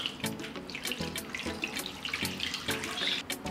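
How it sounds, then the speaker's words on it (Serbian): Water pours from a tap into a large cooking pot holding glass jars set on a cloth, making a close, splashing, gurgling rush with small rhythmic surges and no voices. "Nalit ću sa vodom do visine poklopca."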